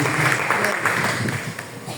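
Church congregation applauding during a Sunday family service, brisk clapping with voices mixed in and the level fading slightly over two seconds.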